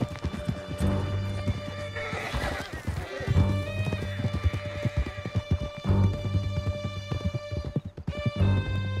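Horses gallop hard in Red Dead Redemption 2, with rapid hoof clip-clop, loud snorts and repeated whinnies close by, and brief shouts in between.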